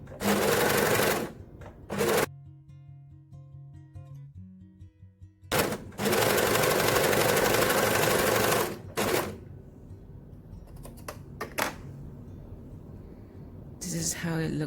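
Overlock sewing machine finishing the edges of satin wide-legged pants, loud stitching bursts that start and stop several times, with quieter gaps of handling in between.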